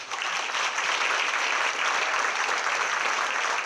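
A civic-event audience applauds a state senator being introduced, a dense, sustained round of clapping at steady moderate loudness from start to finish.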